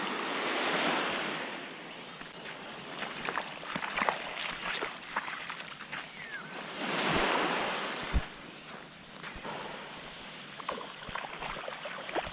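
Ocean waves roll in and crash against a shoreline in steady surges that swell and fade, with close wind rumble buffeting the microphone throughout and no talking.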